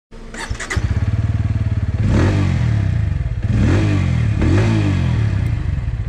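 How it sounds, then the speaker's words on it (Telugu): A Bajaj Pulsar N160 motorcycle engine fires up and revs repeatedly, its loud, throaty exhaust rising and falling in several strong bursts, close by with no talking. "ఇంజన్ చాలా రిఫైన్డ్గా ఉంది అండ్ ఎగ్జాస్ట్ నోట్ కూడా చాలా లౌడ్ ఉంది"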